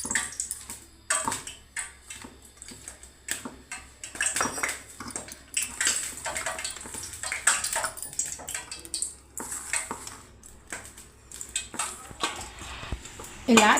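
Water is poured into wheat flour dough in a bowl and mixed by hand for biscuits. Irregular wet splashing, squelching and clattering bursts are heard close up throughout, with some faint background sounds.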